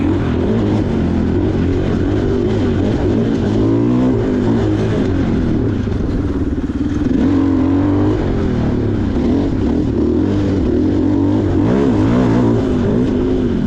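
A 2023 KTM 500 EXC-F motorcycle with Graves exhaust and modified ECU roars loudly and continuously, its pitch rising and falling as it revs, close by, with no talking.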